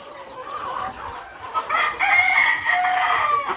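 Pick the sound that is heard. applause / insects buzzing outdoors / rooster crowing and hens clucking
rooster crowing and hens clucking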